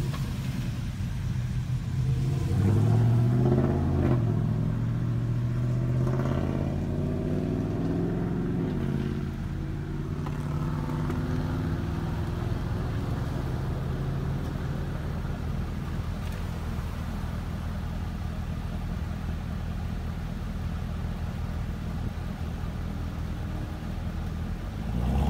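A 2018 Chevrolet Camaro ZL1 1LE track edition engine rumbles nearby, revving with rising and falling pitch early on before settling into a steady, deep drone that lasts throughout.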